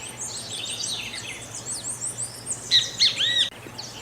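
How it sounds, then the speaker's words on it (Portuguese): A great kiskadee calls in southern Brazil, a run of bright, loud, repeated chirps that grows clearer and more emphatic near the end over faint insect hum. "esse é o bem-te-vi, uma ave também muito comum no Rio Grande do Sul"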